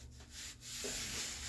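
Steady coarse sanding of wood filler by hand with 50-grit sandpaper, a continuous close rasping scrape with slight strokes.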